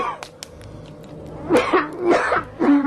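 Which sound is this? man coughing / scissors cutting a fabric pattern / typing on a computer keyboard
man coughing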